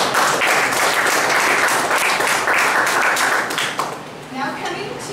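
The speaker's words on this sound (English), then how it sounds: "So let's have a round of applause." Audience applause after a first speech at an evaluation session: dense, sustained clapping from a room of people, loud and steady before it thins and fades near the end, with a voice briefly audible as it dies down.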